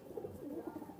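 Pakistani high-flying breeder pigeons, a pair with the hen just back from laying, give a soft rolling coo of repeated low pulses, close but quiet, with no talk over it.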